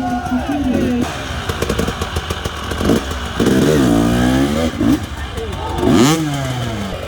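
An enduro motorcycle engine revs up and down with rising and falling whines, close by, while people shout excitedly over it.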